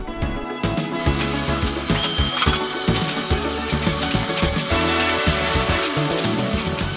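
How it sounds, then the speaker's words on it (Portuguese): Automated assembly machinery runs in a busy factory making KG disconnect switches, giving off dense, steady mechanical clatter with repeated whirs, clicks and tool-like buzzing that never lets up. "Robôs e linhas de montagem têm substituído os processos manuais de trabalhos repetitivos."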